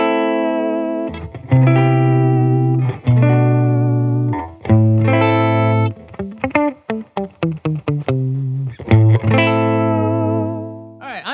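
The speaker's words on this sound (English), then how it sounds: "Silktone amp sounds like this." Electric guitar from a Cyp Guitars OH10 played into a Silktone amp, with sustained chords, a burst of quick staccato picking and ringing decays, loud and close, with no speech over it.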